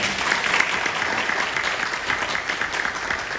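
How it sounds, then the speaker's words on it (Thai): An audience at a Pornmitr company business event in Surat Thani applauds its leaders, a dense, even wash of clapping from a large seated crowd with no voices on top. "ปรบมือให้ผู้นำของพร้อมมิตรทุกคน"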